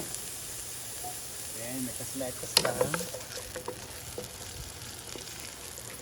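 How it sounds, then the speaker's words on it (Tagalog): Sliced onion goes into hot cooking oil in a wok over a strong outdoor fire on a farm, bursting into a sharp sizzle and crackle that then settles into steady frying under a voice. "kapag mainit na yung ating mantika, ilalagay na natin ang panakat. So, una natin ang sibuyas."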